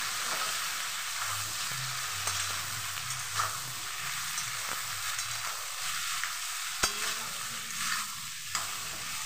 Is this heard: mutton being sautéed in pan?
yes